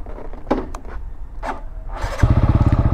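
A TVS Apache RTR 200 motorcycle, just repaired for a starting problem, is cranked once or twice before its engine catches and settles into a loud, close, rapid pulsing idle.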